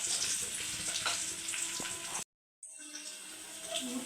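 Spices tempering in hot coconut oil for a fish curry, a loud, dense, steady sizzle that cuts out for a moment, then returns slightly softer. Close and with no voices.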